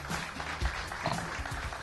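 Studio audience applause on a Brazilian TV variety show, a brief burst of clapping from a small crowd, moderately loud and steady.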